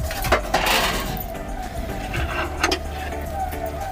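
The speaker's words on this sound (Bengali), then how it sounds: "এই ঢাকনাটা খুলছি" A metal lid is lifted off a pot of small puti fish curry cooking with helencha greens, making sharp clinks and a scrape at the start and another clink near the end over a low kitchen hum.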